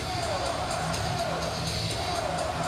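Arena crowd at an NLL lacrosse finals game between the Georgia Swarm and Saskatchewan Rush roaring loudly and steadily, a dense continuous wall of noise with whoops rising through it.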